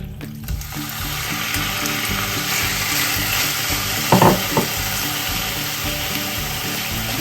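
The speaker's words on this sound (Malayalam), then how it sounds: "പാൻ ചെറിയ ചൂടായി കഴിയുമ്പോൾ അതിലേക്ക് നമ്മൾ കട്ട് ചെയ്ത് വെച്ച് ചിക്കൻ" Small cut chicken pieces sizzle in a hot pan, a steady loud frying hiss throughout with a short burst of clatter near the end.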